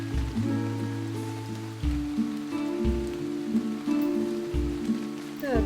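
Steady rain in Minecraft patters softly on a surface, with low droning tones and occasional thumps underneath, no voices.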